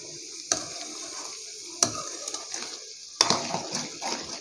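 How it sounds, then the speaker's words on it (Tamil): Butter simmering into ghee in a home pan, stirred with a utensil: a steady soft sizzle and bubbling runs throughout, broken by three distinct scrapes or clinks of the spoon against the pan at spaced intervals. "கவனமாக வந்து கிளறி விட்டுகிட்டே இருங்க"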